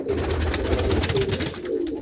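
Pigeons kept in a coop coo steadily and close by, a soft continuous rolling murmur from several birds lasting the whole moment with no talk.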